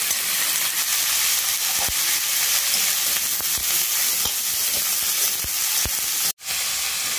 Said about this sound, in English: I'm just going to saute it a bit